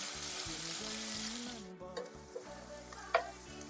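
Chopped onions sautéing in a hot pan for vada curry, a loud close sizzle that fades partway through, followed by a few light clinks and stirring scrapes.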